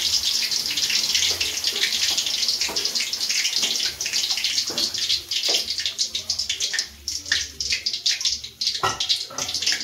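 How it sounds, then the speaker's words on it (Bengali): Water poured from a tap or vessel into a cooking pan while ghugni (a spiced Bengali pea curry) is being made, a continuous splashing gush that breaks into intermittent trickles and drips toward the end. "এবার আমি জল দিয়ে দিচ্ছি।"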